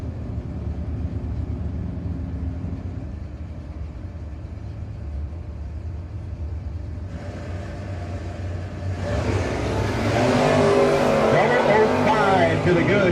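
Drag race car in a no-box 660 event, a distant rumble under a track announcer's voice that swells into a loud roaring launch near the end.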